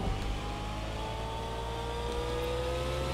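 A car driving in Watch Dogs Legion, its engine a steady droning hum with faint whirring, continuous and fairly close for the whole stretch, no voices over it.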